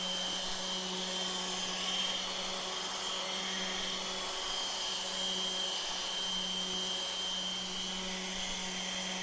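Guitar body being hand-sanded with 180, 240 and then 320 grit sandpaper, a steady continuous abrasive hiss under a constant low hum, even and unbroken throughout with no talking.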